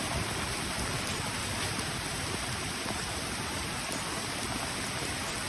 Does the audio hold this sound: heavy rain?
yes